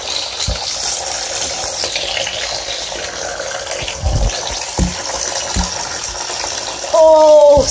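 Water gushes and splashes steadily in a flood scene, a continuous rushing wash with a few heavier splashes, ending in a louder surge.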